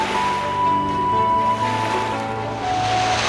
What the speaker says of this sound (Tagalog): Nilagay ni Taranga ang anak niyang si Maui sa tubig at dinala ito ng mga alon